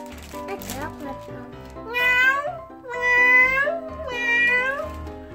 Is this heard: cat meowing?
yes